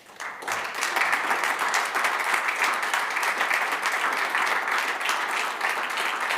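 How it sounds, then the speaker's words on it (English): An audience at a conference breaks into dense applause for the event team. The applause builds fast and stays full and steady, a loud wash of many hands clapping together. "Great, give them a big round of applause."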